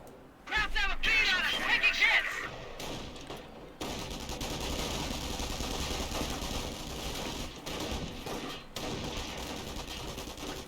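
Rapid bursts of MP40 submachine-gun fire from Volksgrenadier infantry in Company of Heroes, dense and continuous with overlapping shots and battle noise, under steady commentary.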